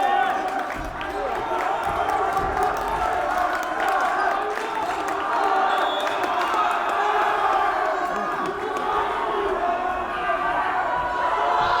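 A crowd at a high school boys volleyball playoff game cheers and shouts steadily in an indoor gym, a dense roar of voices sustained throughout with bursts of whooping.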